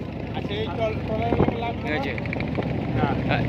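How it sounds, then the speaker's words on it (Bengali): A motor trawler passes on the Balu river near Purbachal, Bangladesh, with a continuous rumbling engine and water wash mixed with wind buffeting on the microphone; a voice seems to talk over it. "এই যে আপনার এই যে যে ট্রলারটা আসছে"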